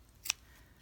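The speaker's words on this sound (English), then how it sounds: "So I take my scissors and I do small little clips." One short, quiet snip of scissors clipping fabric along an inside curve of a neckline seam and facing, a crisp single cut in a quiet room.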